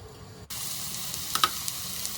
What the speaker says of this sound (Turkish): küp küp doğradığımız tavuk göğsünü yüksek ateşte ocağa alıyoruz